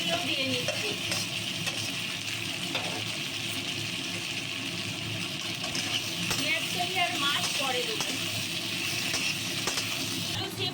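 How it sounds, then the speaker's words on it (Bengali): Tomato and cauliflower fry together in spiced oil in a pan for a Bengali winter-vegetable curry, giving a steady close sizzle with repeated spatula scrapes and light clinks throughout. "টমেটোটা এবার এর সঙ্গে ভেজে নেবো একসঙ্গে এই দেখুন এর সঙ্গে কপি"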